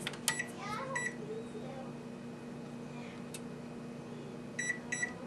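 Several short electronic beeps from a bread oven's timer being set to 400 degrees, in quick clusters near the start and again near the end, over a steady low hum.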